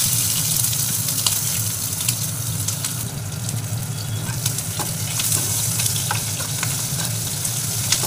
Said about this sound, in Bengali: পেঁয়াজটা একটু হালকা করে ভেজে নেব আমি।